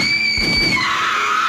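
High, sustained screaming in an audio drama, a strained tonal wail that glides downward and holds, close and loud over a rumbling, noisy backdrop of chaos.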